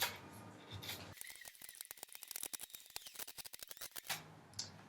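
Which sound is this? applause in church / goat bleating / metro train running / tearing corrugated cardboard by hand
tearing corrugated cardboard by hand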